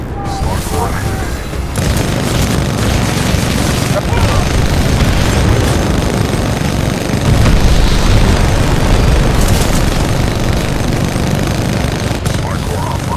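Titan weapons in Titanfall 2 fire continuously amid explosions, a dense, loud barrage of booms and rapid shots rumbling without pause, with voices calling out over the combat.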